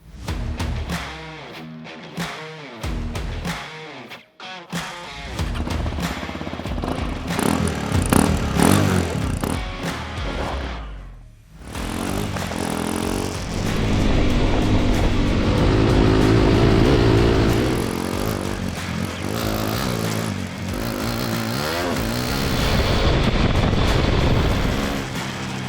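Hero XPulse 210 motorcycle ridden off-road, its single-cylinder engine revving and changing pitch up close, dropping off briefly, then pulling hard in a sustained loud drone with rushing wind and gravel.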